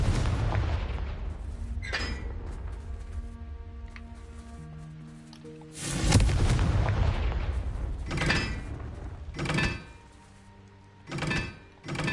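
Bombarda and Confringo explosion spells cast in the Hogwarts Legacy video game: loud booming blasts and thuds with rumbling tails, spaced irregularly amid game sounds, with a big burst near the middle and sharper hits toward the end.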